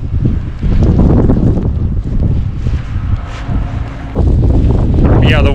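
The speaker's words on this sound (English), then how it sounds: "the wind is pretty hard out here right now" Strong wind buffets the microphone on a snowy trail, giving a loud, steady, rumbling roar that swells and dips throughout.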